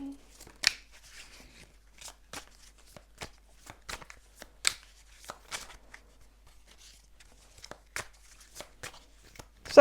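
Tarot cards being shuffled by hand, a quiet run of crisp irregular riffling and slapping snaps that come and go at close range, with brief soft sounds between them.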